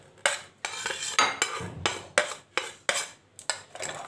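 Salt and turmeric are worked into a bharali bora mix of onion, chilli, ginger, garlic and black cumin. Close, rhythmic scraping strokes come in about ten bursts with short pauses, and no one speaks.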